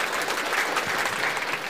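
Steady, dense applause from a church congregation during a sermon, even and sustained throughout with no pauses, fairly close and full.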